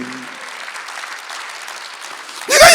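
A church congregation claps during a Korean Sunday worship service, a dense wash of clapping throughout that swells suddenly louder near the end.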